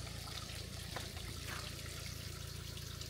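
Water trickles steadily beneath a large bridge in rural Evia, Greece, a close, continuous broadband wash with no break over three seconds and no talk over it.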